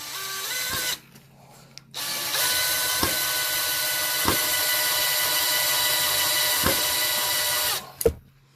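A DeWalt right angle flex driver whirs steadily while driving a Phillips screw, with a brief start, a short pause, then a longer continuous run punctuated by a few sharp clicks before stopping.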